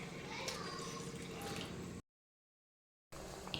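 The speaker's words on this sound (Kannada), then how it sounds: "ಇವಾಗ ನಾನಿಲ್ಲಿ ಸ್ವಲ್ಪ ನೀರನ್ನು ಆ್ಯಡ್ ಮಾಡ್ಕೊತಾ ಇದ್ದೀನಿ." Water poured into sambar (bele sambar) in a pot while cooking, a soft trickling and dripping pour, faint and close, briefly cut to silence before resuming.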